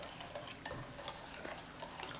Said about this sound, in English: Mix that up to combine it really good